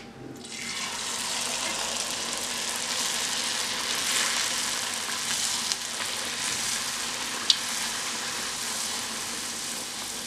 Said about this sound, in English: So now the oil is hot. I'm going to fry puri one by one.